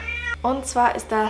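A domestic cat meows several times in short, close, tonal cries that alternate with someone talking in German.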